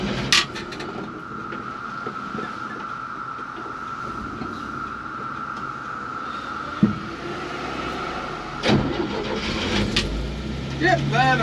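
Antique GMC dump truck engine running at a steady, loud drone, with a few knocks and clunks over the rumble.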